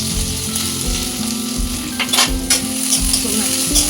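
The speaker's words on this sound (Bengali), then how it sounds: "কড়া গরম হয়ে গেলে তেল দিয়ে এবার আমি মশলাগুলো দিয়ে ভেজিটেবিল চপের তরকারি প্রস্তুত হয়ে প্রথমে কাটা পেঁয়াজ দিলাম" Chopped onion hits hot oil in a heated wok while a vegetable chop filling is being cooked. A dense, steady sizzle runs throughout, broken by a few sharp metallic scrapes and clanks of stirring, with no voices.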